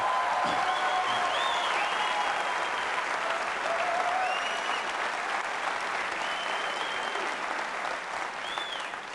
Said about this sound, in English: It's a lot of applause when you guys do all the work